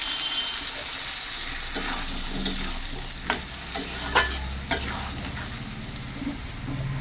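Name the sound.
sautéing spices with fried potatoes in a pan for shrimp curry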